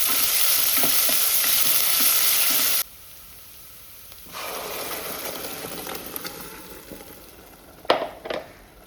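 Finely chopped onions fry in oil in a pan while being stirred. A loud close sizzle cuts away to quiet, then returns more softly, with a couple of sharp scraping clatters from the utensil near the end.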